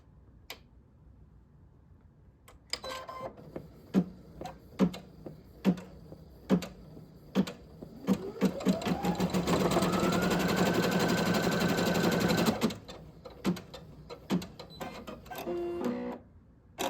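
Embroidery machine stitching a quilted scarf in a hoop: isolated clicks and taps, then a rising whir as the motor speeds into a steady fast stitching run, followed by more scattered clicks after it stops.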